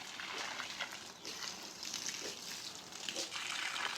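Water pumped to irrigate a home garden of snake gourd plants gushes and splashes in a steady, continuous rush at moderate distance, with no talk over it.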